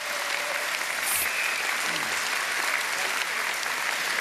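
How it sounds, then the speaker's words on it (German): Sustained, loud applause from delegates at a German AfD federal party convention focused on social policy in Saxony, a dense hall-wide clapping that holds steady throughout. "Björn Höcke war das, meine Damen und Herren, der hier doch deutlichen Applaus bekommt, der Delegierten"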